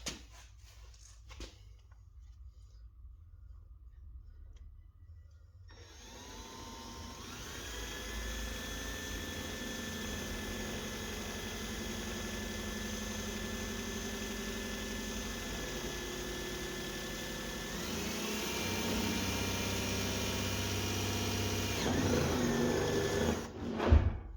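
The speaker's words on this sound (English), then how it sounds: "One hole successfully drilled." A power drill bores a hole during a Wiechers strut bar install on a Mercedes W201 190E, its motor starting after a few seconds of quiet and whining steadily, rising in pitch near the end before stopping.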